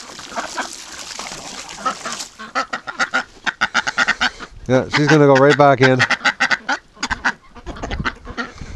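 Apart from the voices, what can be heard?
Rouen ducks quacking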